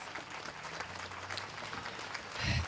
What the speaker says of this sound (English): So that deserves a great, great, great round of applause